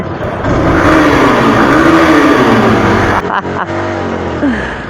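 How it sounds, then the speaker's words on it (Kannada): A Hero Xpulse 200 4V motorcycle revving in an underpass, its loud exhaust note rising and falling in repeated blips, echoing close with a brief dip partway before climbing again. "ನಿಮಗೆ ಅಂಡರ್ ಪಾಸಲ್ಲಿ ರೇವ್ ಮಾಡಿದ್ರೆ ಹೆಂಗೆ ಕೇಳಿಸುತ್ತೆ ಅಂತ ತೋರಿಸ್ತೀನಿ."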